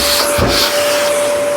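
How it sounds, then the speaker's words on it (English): A vacuum nozzle sucks up dry dust around a plywood slatted wall fixing, a steady close whooshing drone with a brief rougher burst near the start. "So I'll vac that off."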